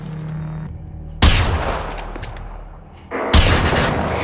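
Gunfire in the video game Generation Zero: two loud, close shots a couple of seconds apart, each with a long echoing decay.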